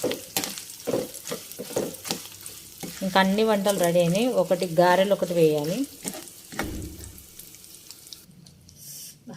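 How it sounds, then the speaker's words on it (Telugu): Tempering spices for tamarind rice crackle and sizzle in hot oil through the whole stretch, with someone speaking over it in the middle and the sizzle fading toward the end. "ఇది పులిహోర కోసం అయితే పోపు వేసాను"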